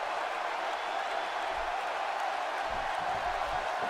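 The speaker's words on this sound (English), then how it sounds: "Zayn is trying to feed off the energy from this San Diego crowd" A steady, dense roar from an arena crowd in the wrestling video game WWE 2K17, a San Diego audience at an Extreme Rules event, holding level throughout with faint cheering swells and no clear talk.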